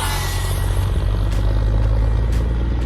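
An RC speedboat on a 4S LiPo with a 120A ZTW ESC runs at full throttle, a constant dense roar with a low droning undertone that holds loud and steady throughout.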